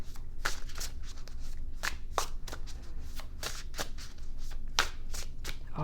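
Oracle cards shuffled by hand during a pick-a-card reading, a steady close riffling with repeated sharp snaps and flicks over several seconds, no talking.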